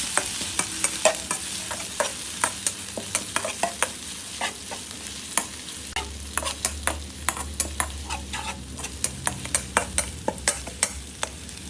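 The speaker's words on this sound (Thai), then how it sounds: "ตั้งกระทะใส่น้ำมันลงไปครับ น้ำพริกกระเทียมที่ตำไว้ลงไปพัดให้หอมครับ" Oil sizzles steadily in a hot wok as garlic chili paste is stir-fried, a spatula scraping and tapping repeatedly, a busy rhythm up close with no talking.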